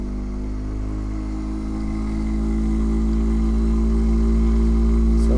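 A magnetless attraction motor driving a fan at full power gives a steady, loud mechanical hum that swells slightly as it is turned up, running continuously with no talking.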